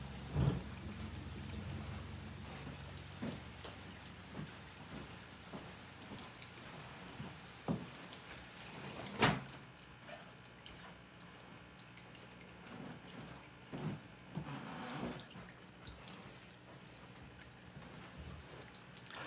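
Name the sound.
rain pouring outside an open window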